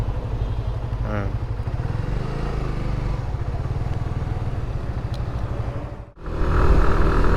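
A Suzuki GSX-R motorcycle engine drones steadily and close on a night ride out on a long tour, with rushing road and wind noise and a brief dip before the engine swells again.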